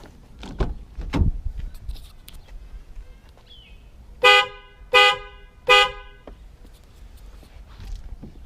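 Three short, loud blasts from an upgraded aftermarket horn on a 2012 Kia Optima sound in quick succession, each a bright, brassy honk, after some faint thumps and rustling nearby.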